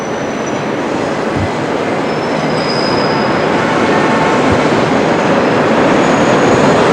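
A white New York subway train rumbles steadily across an elevated track high overhead on the IRT New Lots Avenue line, a continuous loud roar with faint wheel squeal and occasional clatter.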